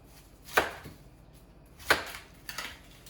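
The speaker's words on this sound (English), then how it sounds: "Cut the sides of the onion off." Three crisp knife chops on a cutting board, spaced about a second apart, trimming the sides off an onion; close, dry thuds with quiet pauses between.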